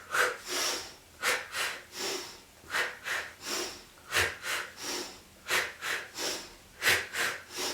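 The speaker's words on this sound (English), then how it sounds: "Now I'm breathing big for you," Deep Pilates breathing, with sharp sniffing inhales through the nose and forceful exhales through the mouth, repeating in a steady rhythm of about a dozen breaths, close and clear with no speech.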